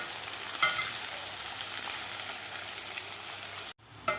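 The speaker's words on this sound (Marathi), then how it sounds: "मोठ्या गॅसवर आपल्याला कांदा हे गोल्डन कलर होईपर्यंत आपल्याला कांदा तळून घ्यायचा आहे." Onions frying on a high flame in a kadhai for egg biryani, a loud, dense, continuous sizzle up close that cuts off abruptly near the end, then resumes faintly.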